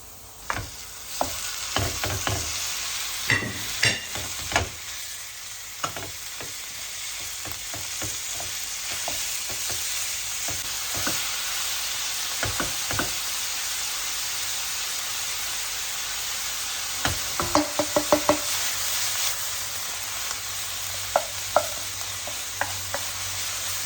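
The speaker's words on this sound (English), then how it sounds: "Okay, it's almost brown, cooking it evenly." Minced meat seasoned with salt and pepper fries steadily in a pan, a continuous close hiss broken by frequent crackles and spoon scrapes clustered near the start and toward the end, with no voices.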